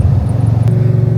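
A 700 hp Ford Mustang with a TVS blower, its engine holding a loud, steady low rumble at close range for a brief moment.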